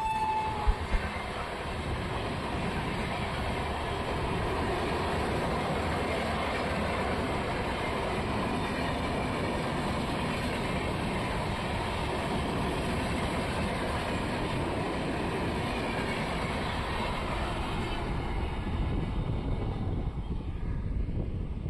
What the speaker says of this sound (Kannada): ನಮ್ಮ ಟ್ರೈನು ಹೊರಟಿದೆ.